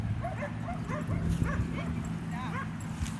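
Australian heeler dogs yip and whimper in short, excited bursts at close range over steady low background noise, with people talking nearby.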